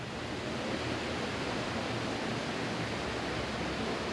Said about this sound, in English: Got the little creek that runs out of the lobby down through the water to the lake